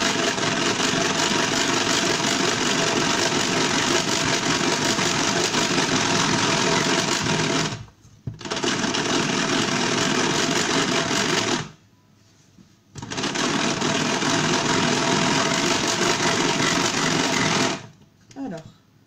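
Food processor whisking egg whites at speed 1 while making waffles, a loud steady mechanical whir running in long stretches broken by two short stops, no talking over it.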